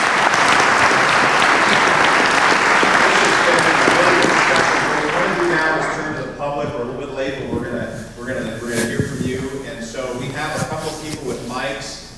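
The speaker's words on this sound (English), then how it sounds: "Let's have a round of applause" Audience applause at a community forum on homelessness in Sonoma County, loud and sustained for several seconds, then tapering off as a voice begins talking over the fading claps.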